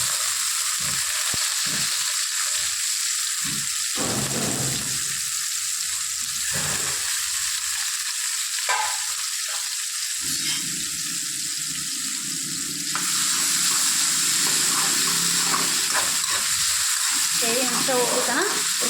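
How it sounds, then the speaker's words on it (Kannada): Bitter gourd fries on a stove in a loud, continuous sizzle that steps up in intensity near the end, with occasional stirring noises and brief talk mixed in. "ಈಗ ಇದು ಹುರಿದು ನೋಡ್ರಿ ಕೈ ತಕ್ಕೋಬೇಕು ಸ್ಟವ್ ಸ್ಲಿಮ್ ಇಟ್ಟು ತಕ್ಕೋರಿ"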